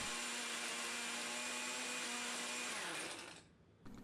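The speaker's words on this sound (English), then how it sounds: "put that into a blender to crunch it into a fine powder." A blender grinds dried, hammer-broken bones into fine bone meal powder, a loud steady whir that runs for about three seconds before cutting out, leaving a brief quiet moment and a small bump at the end.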